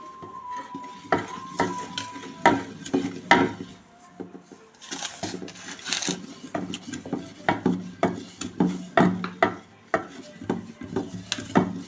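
Chalividi rice flour is stirred in a pan with repeated scraping strokes in an irregular rhythm, close and fairly crisp, with a few brief metallic clinks.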